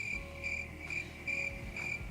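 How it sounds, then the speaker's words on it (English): Steady chirping crickets pulse in regular bursts about every half second, continuous and fairly close, with no voices over them. "Look, crickets."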